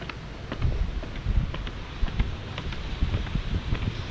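Wind blows across the hilltop at Long Son pagoda in Nha Trang, a steady rushing roar with gusty buffeting against the microphone and scattered low thumps, fairly loud and with no talking.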